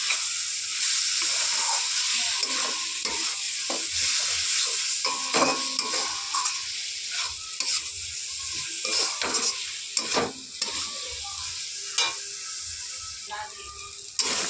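Ground turmeric, Kashmiri chilli, cumin and coriander are stirred into a masala paste in a hot pan for mutton curry, with steady scraping strokes and soft sizzling of oil throughout, plus a few sharper clinks of the spoon against the pan.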